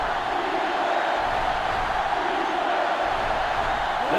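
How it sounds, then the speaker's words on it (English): Stadium crowd in the NCAA Football 2005 video game on GameCube: a steady, dense roar of a sellout crowd that holds loud and unbroken throughout, with no clear voices above it. "This sellout crowd is really making a difference now as these guys can't even call the play."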